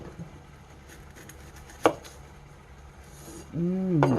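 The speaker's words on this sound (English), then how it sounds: "Get this onion cut up real fast." An onion is chopped with a knife on a board for Kentucky chili, with faint cuts and one sharp knock, then a voice starts speaking at the end.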